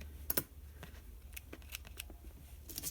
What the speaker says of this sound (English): give it just a little nick with my scissors